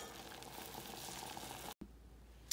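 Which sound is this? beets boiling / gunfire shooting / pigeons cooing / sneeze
beets boiling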